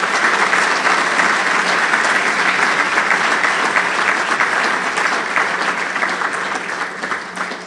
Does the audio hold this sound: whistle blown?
no